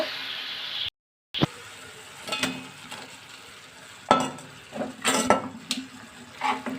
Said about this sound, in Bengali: এখন এর মধ্যে শুটকি মাছগুলোকে দিয়ে দিব